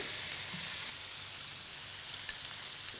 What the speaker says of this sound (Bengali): রসুনটা দেওয়ার সাথে সাথেই ওই রসুনের নির্যাসটা থাকতে থাকতেই মুরগিটা দিয়ে দিবেন।